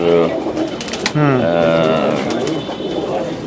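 Allahabad pigeons, crossed with Saharanpuri pigeons, coo in low, throaty bursts close by, overlapping with someone talking and steady background noise.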